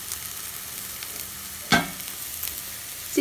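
Ingredients sautéing in a pan for Kerala kilikkood, a steady soft sizzle with one sharper clatter of stirring partway through and another near the end.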